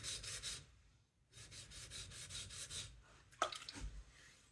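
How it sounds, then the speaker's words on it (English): Steel blade rubbed flat against a coarse sharpening stone while shaping a bevel, a close, steady rasping in long repeated strokes with a brief pause midway and a sharper scrape near the end. "I'm just putting the blade on the stone flat, and I just let the work to be done"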